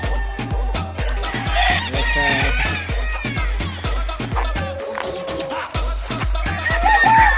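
Gamecock roosters crow and cluck close by, with repeated short calls over a steady thumping rhythm and a busy backyard background.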